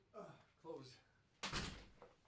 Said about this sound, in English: Close that office door.